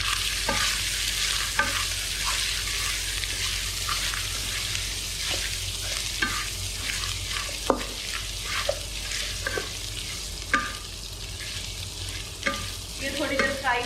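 Dry spices, including coriander, fry in a pan for beef karahi. A steady sizzle runs throughout, broken by frequent light scraping taps of a stirring spoon.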